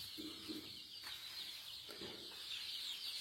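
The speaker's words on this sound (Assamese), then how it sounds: "চাওক মুৰ্গীবিলাক," Sonali chickens on a farm in Baksa, Assam, in the evening, giving a few soft low clucks and brief flutters over a steady, hissing background of insect-like noise.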